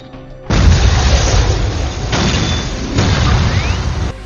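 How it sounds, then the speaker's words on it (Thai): A bomb goes off in the 2004 film The Punisher when a door is opened, a sudden loud boom that becomes a sustained, roaring blast with rumbling debris for several seconds. "ลูกน้องของเขาเนี่ยดันวิ่งไปเปิดประตูซะก่อน เลยทำให้ระเบิดทำงาน"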